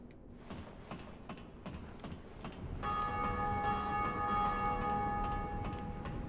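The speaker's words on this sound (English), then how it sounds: "Nope, bell just rang." A bell rings in the video game Dark Souls, its sustained metallic tones entering partway through and swelling over earlier soft, rhythmic clicking, with no talk.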